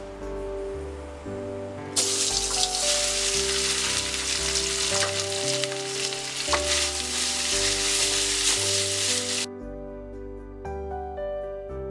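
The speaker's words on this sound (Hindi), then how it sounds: "इधर कचौड़ी का मसाला बनाने के लिए हमने कढ़ाई में ऑयल ले लिया है। अब हम इसमें मैश किए हुए आलू डाल देते हैं।" Mashed potatoes hit hot oil in a kadai and sizzle loudly for several seconds, then cut off abruptly, all heard under continuous background music.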